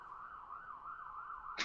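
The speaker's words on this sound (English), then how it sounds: "there's a ambulance coming" An ambulance siren wailing outside, a steady rising-and-falling electronic tone heard faintly through a window, continuous for a couple of seconds before a brief sharp noise at the end.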